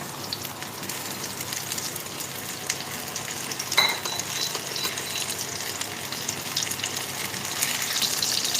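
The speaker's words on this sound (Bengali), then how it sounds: "হাইতে রেখেই কিন্তু ঝিঙেটাকে ভালো করে একটুখানি ভাজা ভাজা করে নিতে হবে" Ridge gourd frying in a pan over a high gas flame, a steady close sizzle with stirring and a brief scrape of utensil against the pan partway through.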